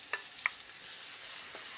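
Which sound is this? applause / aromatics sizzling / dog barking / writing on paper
aromatics sizzling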